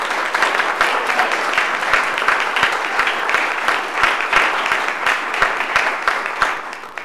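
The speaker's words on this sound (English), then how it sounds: "Will you please give them a round of applause?" Steady, dense applause from a council meeting audience honoring school cross-country coaches, a continuous wash of many hands clapping at even loudness for several seconds with no talking.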